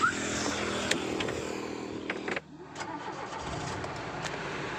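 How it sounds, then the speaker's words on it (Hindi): A Tata Sierra engine cranks and fires, a short cranking burst dropping into a brief lull before the engine settles into a steady close idle. "तो बिना टाइम वेस्ट किए चलिए गाड़ी स्टार्ट करते हैं"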